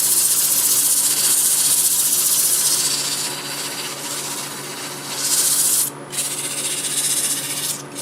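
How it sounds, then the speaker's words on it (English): Sandpaper at 120 grit rubs against a turned plum wood cocktail glass spinning on a lathe, making a steady hiss that softens midway and then surges again with brief breaks near the end. "Okay, all set to sand, and I think I can start with 120 on this."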